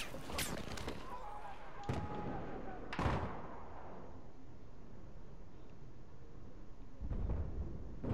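An explosion in Battlefield 4 lands with a sharp, loud blast and a rumbling decay, set among several other distant booms and shots in a busy game battle, with some talk.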